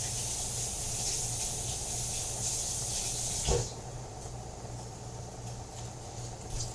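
Water rinses a dusty pan in a home kitchen, a steady hissing stream that stops abruptly partway through after a brief clatter, leaving a quieter background.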